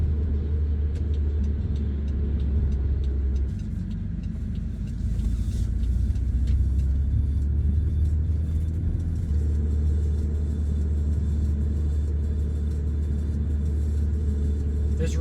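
Steady low engine rumble and road noise from a car driving along city streets in Dartmouth, Nova Scotia during a road test, continuous and fairly loud from inside the cabin, with faint speech-like sounds.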